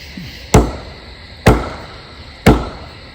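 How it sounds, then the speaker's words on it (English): Three sharp, loud knocks on wood, evenly spaced about a second apart, each ringing briefly against a quiet outdoor background in a canyon. "Three knocks."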